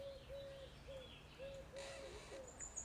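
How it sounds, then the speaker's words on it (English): Faint, quiet outdoor ambience with a series of soft, drawn-out tonal calls, like birds or creaking wood, repeating at irregular intervals. "Birds and creaky trees."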